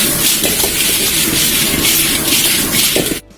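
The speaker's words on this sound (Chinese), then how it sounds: "然后下入花蛤，翻炒均匀" Clams stir-fried in a wok with hot pot base, cooking wine and chili give a loud, steady sizzling hiss with rough tossing texture that stops abruptly at the end.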